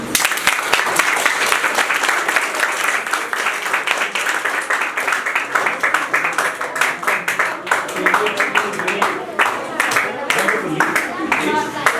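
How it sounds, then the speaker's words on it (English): An audience applauds presenters at a quality-control convention, with sustained, dense clapping that stays loud throughout and has scattered individual claps standing out near the end. "So I just request you to clap for them."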